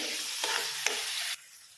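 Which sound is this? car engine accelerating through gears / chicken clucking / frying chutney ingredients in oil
frying chutney ingredients in oil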